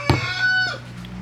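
Chickens of the Bangkok and village breeds in a backyard coop, one giving a loud, close cluck followed by a sustained crowing-like call lasting about a second.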